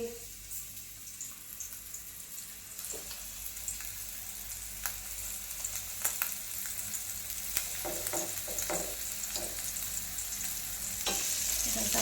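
Mackerel frying in a pan in a Konkan home kitchen, a steady broad sizzle running throughout with scattered clinks and scrapes as the fish is turned, close and moderately loud, with no speech.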